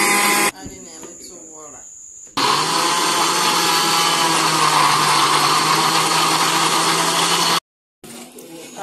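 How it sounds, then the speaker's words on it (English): A blender roars loudly and steadily for several seconds while blending cucumber, after a short softer stretch, then cuts off abruptly before starting again. "so now I want to blend the cucumber"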